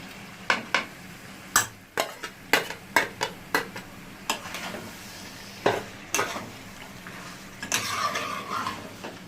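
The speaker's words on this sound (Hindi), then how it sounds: "टमाटर डाल के थोड़ा सा भूनेंगे।" Tomatoes frying in a meat curry pan, with repeated sharp stirring scrapes and clinks of a spoon against the pot over a soft background sizzle.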